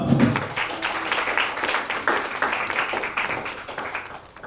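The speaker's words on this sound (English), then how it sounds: "let's give Bonafide a round of applause" Audience applause following a poetry reading, many hands clapping steadily and densely throughout, full and close, slowly tapering toward the end.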